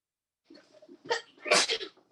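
A single close sneeze: a short breathy intake followed by a sharp, explosive burst, then quiet.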